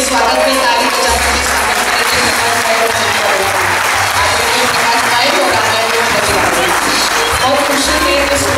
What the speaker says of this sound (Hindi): तो सभी के स्वागत में ताली बजाकर